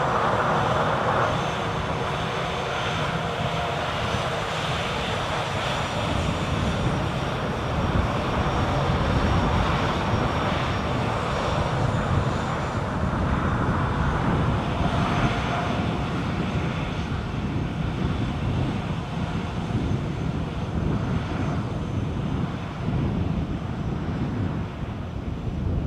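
KLM airliner departing Edinburgh airport, a sustained loud jet engine roar that stays steady and broad, with gusty wind noise on the microphone throughout and no speech.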